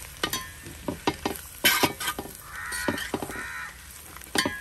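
Masala being stirred into a fish curry in a pot, the spoon scraping and knocking in irregular strokes over a soft sizzle, with outdoor crows cawing now and then in the background.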